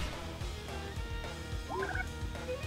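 A chick clucking in the video game Hyrule Warriors, short chirping fowl calls over steady game music and background sound, moderately loud and mixed into the soundtrack.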